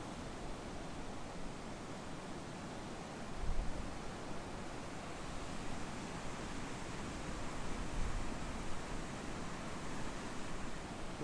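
Water pours over a low head dam in a swamp, a steady broadband rush that stays constant and fairly distant, with faint muted city noise underneath.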